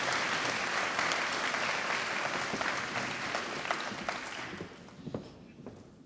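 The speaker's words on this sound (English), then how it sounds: "One massive round of applause again, please." An audience at a school graduation ceremony gives the award winners a full burst of clapping that rolls on steadily, then loosens into scattered, separate claps as it dies away.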